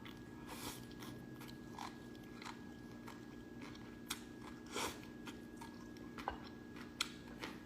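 Crisp crunches from biting into a keto papaya salad with shrimp, several sharp close bites and chewing crackles spread irregularly over quiet background, with no talk.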